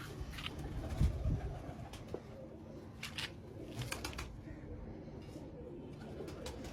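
A Firozpuri pigeon cooing softly, with low murmuring coos close by against faint background noise and occasional small rustles.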